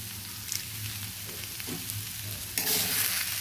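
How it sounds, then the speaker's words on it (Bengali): Banana flower chop filling with fried peanuts being stirred in a pan, a close, continuous sizzle with soft scraping strokes and a louder burst of frying near the end, no talk. "আর ভালোভাবে মিশিয়ে নামিয়ে নেব"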